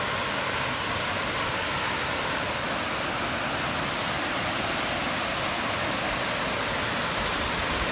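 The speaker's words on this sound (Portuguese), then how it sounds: "Mas a cachoeira é muito louca" Waterfall at Cachoeira Guaratuba on Brazil's northern coast, a dense, constant roar of falling water, loud and unbroken throughout with no voices.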